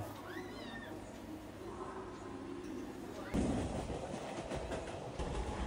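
Rumbling of a suburban train on the Mumbai–Panvel line, rhythmic rattling growing louder partway through, after a few faint voices and a whistle-like tone.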